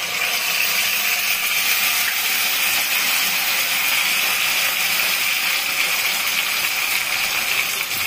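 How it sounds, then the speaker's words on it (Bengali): Spices tipped into a hot kadai for chital fish muitha give off a steady, loud broadband sizzle that holds evenly for several seconds with no voices over it. "এখন কড়াইতে আমি দিয়ে দিচ্ছি।"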